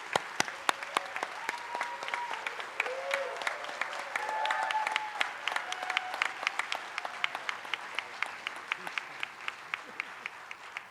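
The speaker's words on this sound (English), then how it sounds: "let's do one more round of applause to these remarkable game designers" A crowd at an awards ceremony applauds steadily for about ten seconds, dense clapping with sharp individual claps standing out, with some voices and cheers mixed in.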